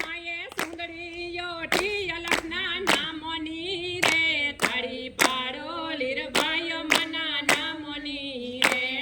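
Hand claps in a Gujarati kirtan at a Tulsi Vivah satsang land in a steady, sharp rhythm, about one or two per second, under ongoing devotional singing.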